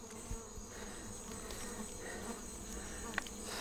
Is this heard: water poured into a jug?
no